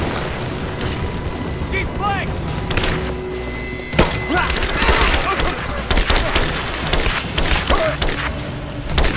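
Heavy gunfire in the video game Rise of the Tomb Raider, with dense bursts of shots and booms filling most of the stretch, loud and close, while voices shout over the battle.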